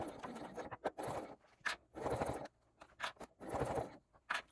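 Sewing machine basting a fully lined boxy bag, running in bursts of steady mechanical whirring separated by short pauses and small clicks, close up with no voices.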